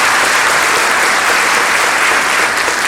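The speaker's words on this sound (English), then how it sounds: "So first off, quick round of applause for our photographers." An audience at a county sports event gives a quick round of applause for the photographers, a dense, loud and steady clapping that fills the brief moment without any speech.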